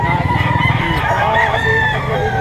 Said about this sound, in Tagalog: Napakamurang manok nito mga bossing